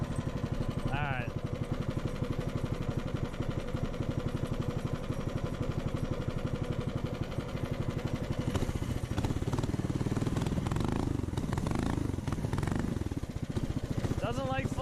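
A small homemade mini bike engine runs loud and near, with a rough, pulsing rasp that builds as it is revved harder and strains toward the end, with voices now and then.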